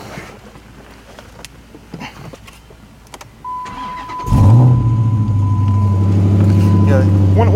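A 2012 Dodge Challenger starts up: quiet shuffling and faint background noise, a starter whine, then the engine catches with a loud burst and settles into a deep, steady, slightly loping idle close by.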